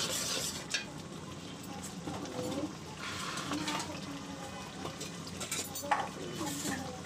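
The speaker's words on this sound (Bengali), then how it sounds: "এখন মশলাগুলোকে আমরা ভালোভাবে কষিয়ে নিব" Spices with turmeric being stirred and fried in a pan, a spoon scraping and clinking against metal over a soft sizzle, close and continuous with brief louder knocks.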